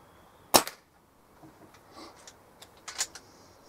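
Air pistol shot at a target on a range: one sharp, loud crack near the start, then quieter clicks and handling sounds, with a few fainter snaps toward the end.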